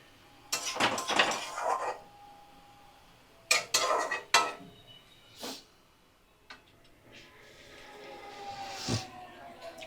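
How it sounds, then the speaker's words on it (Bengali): A lid is set onto a pan of cooking spinach, giving several metallic clanks and clinks in separate bursts, close by over a quiet kitchen background. "এবার আমি একটু ঢাকা দিয়ে রাখবো"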